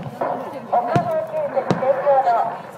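Star mine fireworks launched over Tateyama Bay at a festival display, with two sharp distant bursts heard under a woman's announcement over a loudspeaker.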